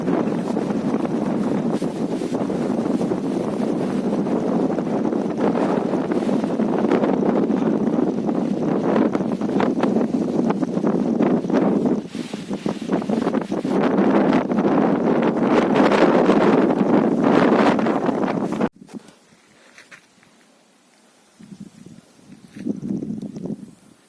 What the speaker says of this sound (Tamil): காத்து பயங்கரமா வீசுது.